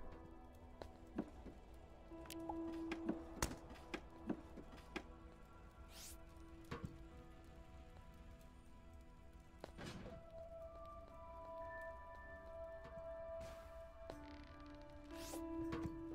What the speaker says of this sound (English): it's raining fire